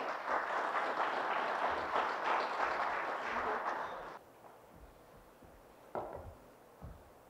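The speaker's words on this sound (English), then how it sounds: "give them a round of applause to start off with" An audience at a municipal presentation breaks into applause, a dense, steady patter of many hands for about four seconds that then stops abruptly, leaving a quiet room with a few small knocks.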